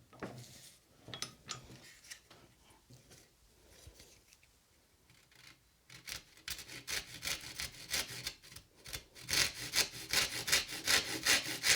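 A rip saw cutting wood during a small backsaw restoration, with sparse scraping at first and then a run of close, rhythmic back-and-forth strokes that grow louder and faster toward the end.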